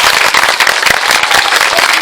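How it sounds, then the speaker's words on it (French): Children gathered at a back-to-school event clap for their teachers, loud close dense applause with sharp individual claps running steadily throughout, no voices heard. "si on est d'accord, on applaudit alors pour les enseignants"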